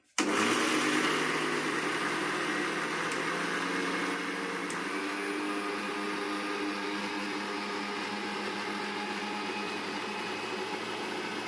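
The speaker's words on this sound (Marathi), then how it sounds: "आता मला मिक्सर डायरेक्ट लावायचा" A mixer grinder whirs loudly and steadily from start to end, a high motor whine that drops slightly in pitch partway through.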